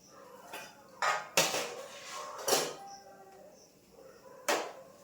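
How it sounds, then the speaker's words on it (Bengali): Rice being served onto a plate for a meal of poppy-seed fritters: a few separate sharp clinks and knocks of dishes and a serving spoon, close and moderately loud, spaced irregularly with quiet gaps between. "কর্তাবাবুর জন্য ভাত বেড়ে দিলাম।"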